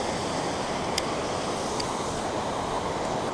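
A waterfall where a bass is being fished gives a steady, loud broadband roar of rushing water that fills the whole clip, with no talking.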